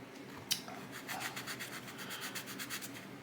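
Fine sanding on small plastic parts of a 1/350 USS Missouri battleship model, a quick run of soft rhythmic rasping strokes close up, with a sharp tap near the start and no talk.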